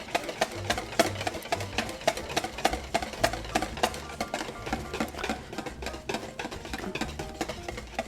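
Egg custard being whisked in a pan for a maple bacon napoleon, a steady rhythmic metallic scraping and clinking of the whisk against the pan, close and continuous throughout.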